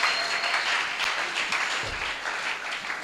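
A church congregation applauding during a praise service, a continuous, fairly loud wash of clapping with no pauses.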